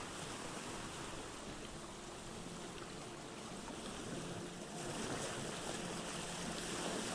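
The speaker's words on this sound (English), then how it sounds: "This is a big ocean." Steady wash of ocean surf in the Vintage Story video game, a continuous hissing roar of waves with a slight swell in loudness toward the end, with no talking.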